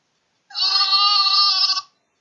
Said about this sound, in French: La brebis, tu sais, elle bêle. On va écouter un petit peu le bruit qu'elle fait.